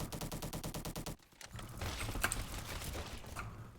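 An SM-03 SMG in Roblox Bad Business fires a fast, evenly spaced string of sharp shots that stops abruptly, followed by mechanical clicks and rattling.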